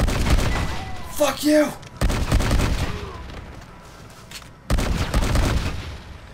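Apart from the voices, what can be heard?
gunfire in the video game Red Dead Redemption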